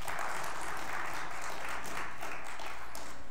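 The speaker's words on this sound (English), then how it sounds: "Give him a round of applause." A church congregation claps in a round of applause, a steady moderate patter of many hands that continues throughout at an even level.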